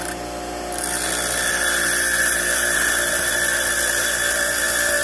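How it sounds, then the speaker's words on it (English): An angle grinder grinds metal off a hinge in a garage, a loud, steady high-pitched whine that starts with a brief lower spin-up and then runs continuously, close by. "Alright, I've got it mostly ground off."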